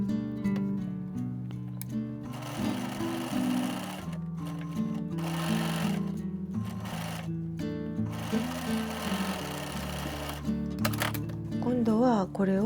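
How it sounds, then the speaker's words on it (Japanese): A sewing machine stitches around the folded neckline of a remade sweater, running in steady motorized bursts with short pauses, close and clear, while someone talks over it. "ミシンでぐるっと走ります。"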